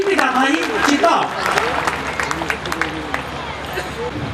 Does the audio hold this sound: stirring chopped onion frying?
no